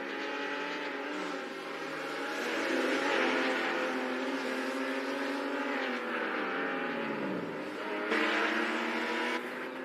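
Race cars in a virtual racing video game, engines revving and shifting pitch as they accelerate, with a brief tire squeal, steady and close, no talk.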